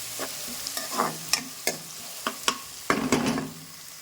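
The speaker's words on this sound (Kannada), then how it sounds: "ಈರುಳ್ಳಿ, ಹಸಿಮೆಣಸಿನ್ಕಾಯಿ, ಆನಂತರ ಕರಿಬೇವು ಸೊಪ್ಪು ಹಾಕಿದ್ದೀವಲ್ಲ, ಇದು ಸ್ವಲ್ಪ ಚೆನ್ನಾಗಿ ಫ್ರೈ ಆಗಲಿ" Onions, green chillies and curry leaves fry in a pan while being stirred, with soft sizzling and a string of sharp spatula scrapes and taps against the pan, close up and without voices.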